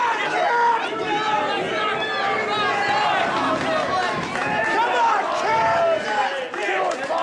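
Crowd at an independent wrestling match, a dense, steady roar of voices, chatter and shouting close around, continuous and loud throughout.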